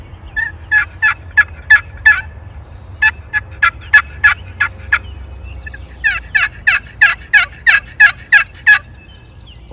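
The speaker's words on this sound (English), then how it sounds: "this is called a boat paddle call made by Quaker Boy in Buffalo, New York" A Quaker Boy boat paddle turkey call, a higher-pitched wooden box-style call, plays loud, close yelping notes in three rapid bursts of clucks and yelps with short pauses between, over a faint low hum.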